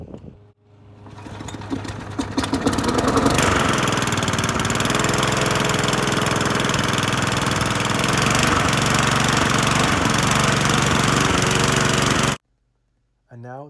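A lawn mower engine being tuned up, starting after a brief pull and settling into a loud, steady mid-pitched running drone for about nine seconds before cutting off abruptly.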